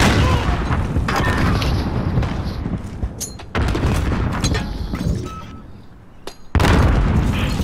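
A grenade blast amid a Call of Duty: Modern Warfare firefight: heavy booms and gunfire bursts, loud and dense throughout, with a sharp blast near the end.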